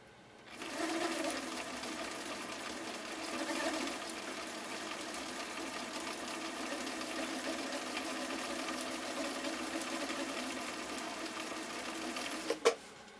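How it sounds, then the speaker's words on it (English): A Viking 6370 sewing machine running an overlock elastic knit stitch gives a steady, close mechanical whir that holds evenly for about twelve seconds, then stops with a couple of small clicks. "So this first one we're sewing again is called an overlock elastic knit stitch."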